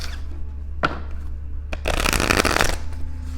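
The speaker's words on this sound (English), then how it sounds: "Let's do one more shuffle." Tarot cards shuffled by hand, with a couple of brief riffle snaps followed by a longer, louder stretch of continuous shuffling, close and alone with no talking.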